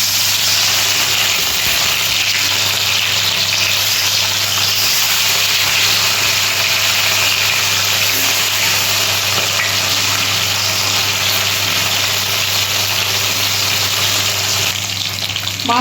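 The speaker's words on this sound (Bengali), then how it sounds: "তেলটা গরম হয়ে গেছে, মাছগুলো আমি ছেড়ে দিচ্ছি।" Marinated fish pieces sizzle in hot oil, producing a loud, dense, continuous frying hiss with crackling that holds steady throughout.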